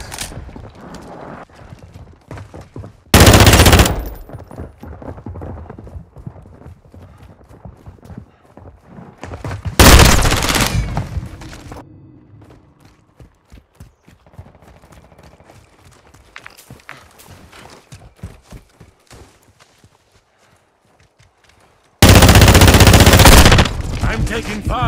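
Gunfire from Call of Duty Modern Warfare II during a Team Deathmatch match: three loud, dense bursts of automatic fire around 3, 10 and 22 seconds, with quieter footsteps and game ambience between them.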